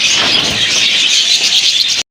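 Blue shirtin pigeons offered as a pair for sale, a continuous high-pitched chirping and squealing texture, loud and close for about two seconds before stopping abruptly, with no talk.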